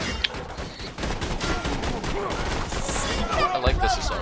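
Assault rifle fire in the video game Borderlands 2 comes as a dense, sustained burst of rapid shots with a few sharp cracks near the start and end, mixed with game effects.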